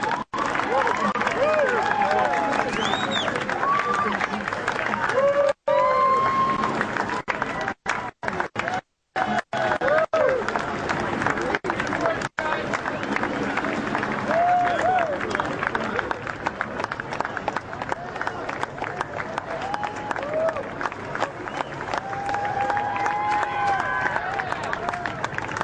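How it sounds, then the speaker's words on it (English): Bystanders along a street cheer, clap and whistle as a line of police cruisers passes after the Boston bombing suspect's capture, a dense, continuous crowd roar at mid distance with scattered shouts and voices talking over it. "Some people clapping, giving thumbs up to these officers"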